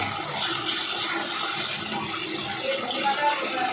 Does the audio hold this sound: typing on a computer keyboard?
no